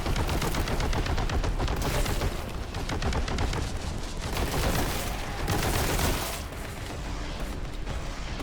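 Heavy bolter gunfire in Warhammer 40K: Boltgun, loud and sustained rapid bursts of heavy shots booming almost without pause for the whole stretch, no voices over it.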